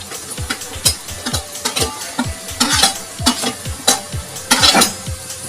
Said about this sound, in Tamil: இப்போ நம்ம கட் பண்ணி வச்ச தக்காளி அதில் போட்டு நல்லா வேக விட போகிறோம்